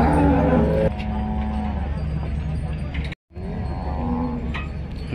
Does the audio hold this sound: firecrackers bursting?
no